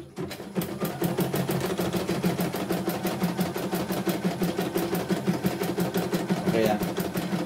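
A CNY E900 sewing machine that runs heavy, with thread clumping and tangling, chatters at a fast, steady rapid-fire rhythm throughout, close and loud, with a voice speaking quietly underneath.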